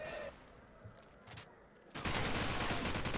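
Gunfire in a Counter-Strike match: a few scattered shots and then a sudden dense burst of rapid automatic fire, loud and continuous over game ambience.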